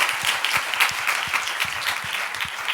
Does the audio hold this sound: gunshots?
no